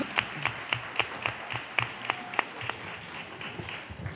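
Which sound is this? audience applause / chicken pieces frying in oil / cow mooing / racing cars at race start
audience applause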